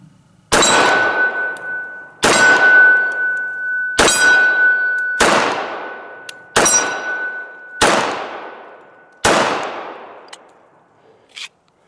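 A 1918 Colt 1911 pistol fires seven loud, evenly spaced shots outdoors, each crack followed by a ringing metallic clang from a steel target and a decaying echo, with no talk between them.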